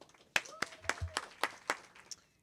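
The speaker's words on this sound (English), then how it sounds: "So without further ado, please give a big round of applause to Claire Pearson." Scattered audience clapping at a poetry reading, a handful of distinct claps spaced irregularly and fading out, with a faint tonal sound beneath.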